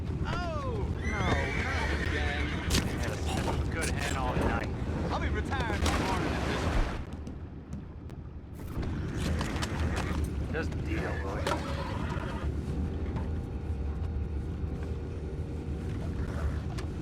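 Horses in a video game whinny and neigh loudly over busy hoofbeats and clattering, with voices mixed in and a brief lull partway through.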